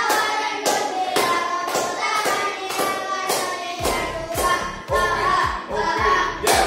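A group of people clapping together in a rhythmic hand-clapping game, sharp unified claps in a steady beat, loud and close, with faint voices and shuffling around them.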